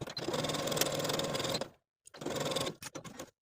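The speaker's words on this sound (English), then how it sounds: "Sew the outside edges of the pocket pieces only with a 3/8 inch seam allowance" A sewing machine runs along the outside edges of jumpsuit pocket pieces. Two close bursts of steady stitching are split by a short pause, and the second run ends in a few choppy stops.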